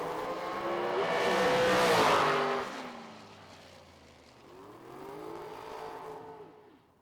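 A drag race car launches down the strip at the Lone Star Summer Shootout, its engine swelling to a loud, rising roar that peaks and fades as it pulls away, followed by a softer revving pass farther off.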